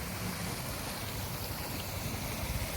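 Steady broadband rush of water flowing in a mountain stream feeding a village water-supply system in Saba Yoi, Songkhla, Thailand, constant and fairly loud with a low churning rumble, no voices.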